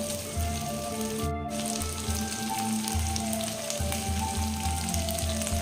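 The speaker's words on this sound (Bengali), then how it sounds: "তেলটাকে একটু গরম করে নিয়ে এখানে চিকেনটাকে ভেজে নেব" Chicken fries in hot oil, with a close, busy sizzle and crackle throughout and faint low background hum.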